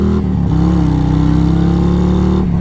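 A 2022 Harley-Davidson Road Glide fitted with a throttle tuner pulls away from a red light, its V-twin engine a loud, steady, close rumble that holds a strong even drone for a few seconds with no voices.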